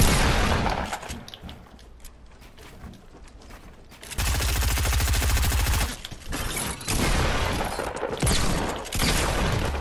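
Repeated hand cannon (Deagle) shots in the video game Fortnite, a loud dense burst of gunfire in the middle of the round with further shots and game effects around it, no talking.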